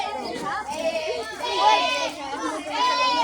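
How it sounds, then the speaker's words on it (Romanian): Goats and sheep bleat on a farm, several wavering calls close by, mixed with children chattering and people talking throughout. "Capre, oie."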